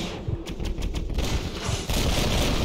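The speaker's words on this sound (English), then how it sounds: "That's what you get for shooting me, sir." Gunfire in the Red Dead Redemption video game: a rapid string of sharp shots cracking in quick succession, then a heavier, sustained roar of firing, loud and close without any talk.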